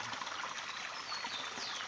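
Water trickles from a spring in the woods, a steady soft babble running continuously with no break, close by and fairly quiet.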